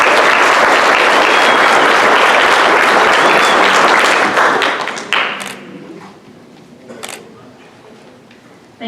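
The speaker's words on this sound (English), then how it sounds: "let's give Carl a round of applause" An audience at a 4-H annual achievement night breaking into loud applause, dense clapping for about five seconds that thins out to scattered claps and fades.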